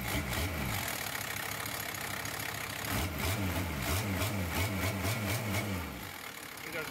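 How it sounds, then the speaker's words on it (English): Mercedes diesel engine with an injection pump, idling smoothly after a start, a steady low rhythmic knocking chug that swells slightly midway, with faint mechanical clatter above it. "Started right up,"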